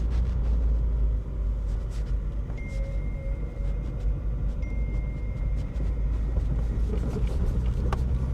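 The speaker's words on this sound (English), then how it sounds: "First test drive, a little bit weary of everything." Acura RSX, abandoned and then revived, on its first slow test drive. The interior carries a steady low engine and road rumble with occasional faint rattles, continuous and fairly loud, with no talking.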